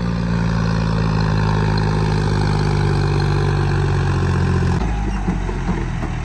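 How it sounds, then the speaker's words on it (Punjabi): A loud, close tractor engine drones steadily as it climbs a slope, a heavy low rumble that changes pitch and load about two-thirds of the way through. "ਇਹ ਟਰੈਕਟਰ ਓਵਰ ਹੈ, ਆਉਂਦਾ ਲਾਟਾਂ ਮਾਰਦਾ"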